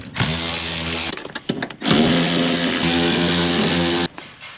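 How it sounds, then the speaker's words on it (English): A power tool fitted with a 14mm socket drives out vehicle seat bolts in loud whirring bursts: one long run, a few short stuttering blips, then another long run that stops abruptly, with no voices. "we start with a 14mm and we remove the 4 seat bolts"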